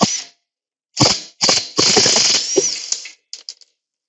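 Impact wrench on a nut during a front wheel bearing replacement on a 2008-2012 Ford Escape Hybrid: several loud, close rattling bursts, one long burst in the middle, then a few quick short taps.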